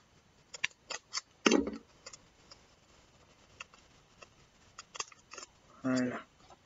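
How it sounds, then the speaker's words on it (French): Small scissors snip close by in sparse, sharp clicks while a diamond painting kit is unboxed, with a few louder crisp cuts spaced over several seconds in an otherwise quiet room. "Je cherche mon petit ciseau."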